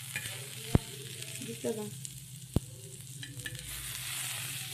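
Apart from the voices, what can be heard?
Marathi val bean pods being sautéed and stirred in a pan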